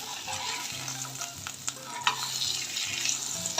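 Sandwich filling fries in a pan with a continuous sizzle, broken by scraping stirs and light clatter from a utensil. No one speaks.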